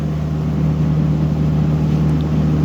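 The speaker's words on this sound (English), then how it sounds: "Sorry about the fan, but it's cold here still." An electric fan runs steadily in a cold workshop beside a 2005 Ford F-350 Super Duty, a constant loud whooshing drone with a low steady hum underneath and no break, no voices.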